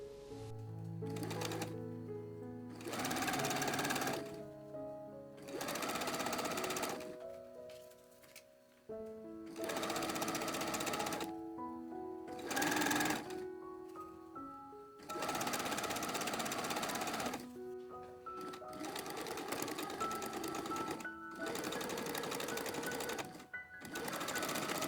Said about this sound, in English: onto the sewing machine